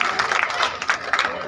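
Villagers applaud at a village gathering honouring a guest with a turban, clapping in bursts that rise and fall over about a second and a half, fairly close, with some crowd murmur.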